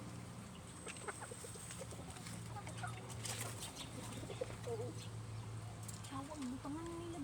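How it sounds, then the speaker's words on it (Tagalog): Pigeons flap their wings in brief flurries amid cooing and clucking birds, with a steady hum and faint voices in the background. "mga kalapati guys"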